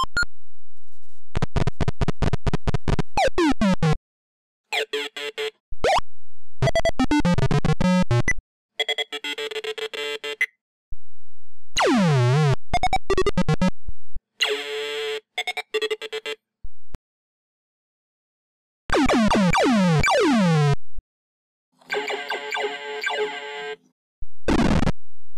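Old PC speaker game sounds from Commander Keen and Duke Nukem play as a run of harsh square-wave beeps, chirps and pitch sweeps in short separate bursts with gaps of silence, loud and close.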